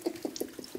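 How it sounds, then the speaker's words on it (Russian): Hot water from a simple washbasin in a village home in Butka falls in a quick, regular patter of drips and splashes, faint and close, with no voices. "Горячая вода, осторожно."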